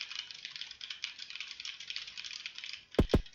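Typing on a computer keyboard set to the Colemak-DH layout during a typing test: a steady, fairly faint patter of key clicks, followed by two sharper, louder strikes at the end.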